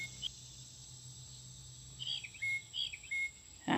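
Short electronic bird-like chirps and trills from a deer deterrent device on a bridge repeat several times against quiet outdoor background hum, ending in a louder burst.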